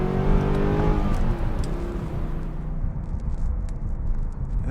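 A 2014 Mercedes-Benz C63 AMG 507 Edition accelerates hard, its engine note climbing loudly through the rev range before easing back into a softer whir. No one speaks.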